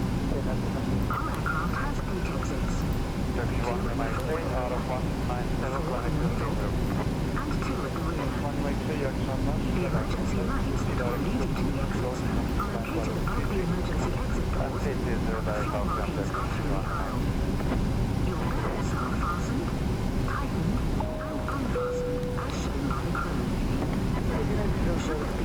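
An airliner's engines drone steadily in Flight Simulator X while it taxis at Ljubljana, a constant loud rumble running throughout, with someone talking over it.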